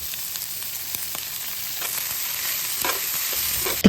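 Chopped lechon sisig sizzles and fries loudly in a hot pan while being stirred and mixed, a steady crackling hiss with occasional scraping clicks, no talking.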